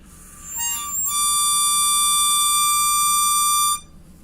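A single high, piercing harmonica tone, the draw 10 note, swells in and holds steady for about three seconds before cutting off, clear and alone.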